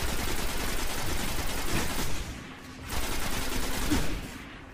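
Rapid gunfire rattles in the video game Destiny, dense sustained bursts with a brief lull in the middle, loud and continuous over background game noise.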